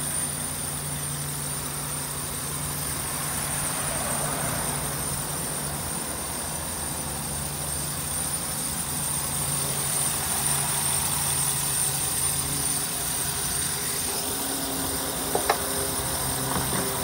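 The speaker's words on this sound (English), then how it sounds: "I've got it running, and here's the engine." A 2013 Ford E-250 passenger van's V8 engine idles steadily at low volume, a continuous rumble with a faint high whine, unchanged for the whole stretch.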